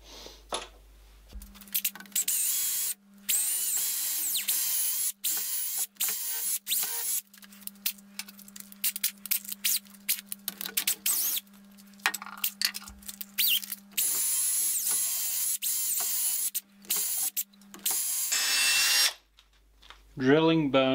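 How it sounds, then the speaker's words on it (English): A power drill bores into deer antler bone, its high whine running in repeated bursts with short pauses and a steady low hum beneath, close and loud throughout. "Drilling bone stinks."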